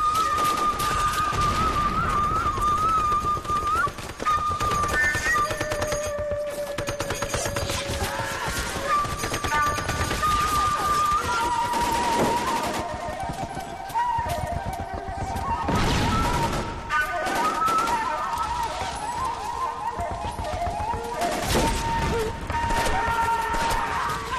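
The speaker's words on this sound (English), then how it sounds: "Artillery." Artillery and gunfire from the L.A. Noire video game, a war scene with bursts of distant shelling and rattling shots repeating throughout, mixed under a sustained musical score and occasional speech.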